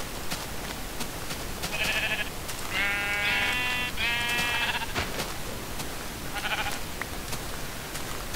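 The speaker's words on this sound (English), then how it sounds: "And I hear another sheep" Sheep in the video game Minecraft bleat in a few short, tonal calls, three close together and a fourth a little later, over a faint steady background.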